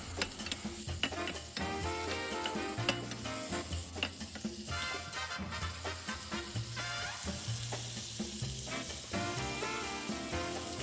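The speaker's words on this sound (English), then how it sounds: "We're gonna mix that up a little bit, let it start browning" Seasoned steak browning in a pan for tacos, a steady sizzle with repeated utensil scrapes and clinks over a faint tonal background, no talk.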